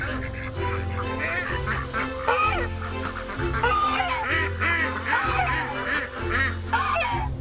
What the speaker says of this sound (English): we moved on to our ducks down by the pond, where Micah helped me gather the eggs